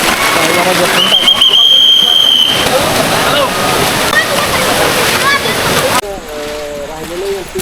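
Water rushes and splashes steadily at a waterfall along a trek route, a loud continuous roar with people talking over it.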